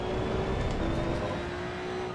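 A racing car's engine in the sim racing game Assetto Corsa EVO, a steady loud droning tone with a sustained whine held through the whole moment, no voices.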